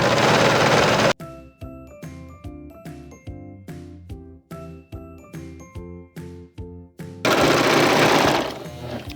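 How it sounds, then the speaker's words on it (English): A Husky Lock S25 overlock serger hemming a skirt runs in bursts, its rapid mechanical stitching chatter starting and stopping with rhythmic pulses, loud and close. "Now we're gonna serge the hem of our skirt."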